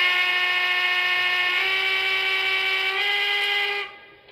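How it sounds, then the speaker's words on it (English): A quilling steam whistle on a Lionel Lion Chief model train engine, the same whistle used on the 119 and Jupiter set, sounds one long steady multi-tone blast that holds for nearly four seconds, then cuts off abruptly. "it's the same whistle that we used in the Lion Chief version of our 119 and Jupiter set as well"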